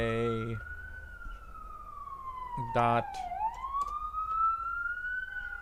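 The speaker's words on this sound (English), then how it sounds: "There's a lot of sirens." An emergency vehicle siren wails outside, its long sweeping tone rising and falling steadily across the whole stretch, with a brief burst of horn-like blasts midway and a voice speaking briefly over it.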